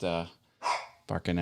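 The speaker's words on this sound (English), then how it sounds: "That's my dog barking at" A pet dog barks a few short times nearby, sharp separate barks close together, with people talking around it.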